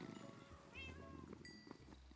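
Cats meow in a Minecraft game, two or three short, thin mews spaced over a couple of seconds, faint and set against soft background hum.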